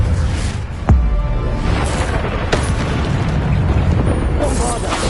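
A Bombarda spell blast in Hogwarts Legacy, a sharp booming burst about a second in followed by a smaller pop later, over dense background game noise and combat effects.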